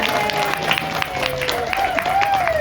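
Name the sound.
audience applause for Kelly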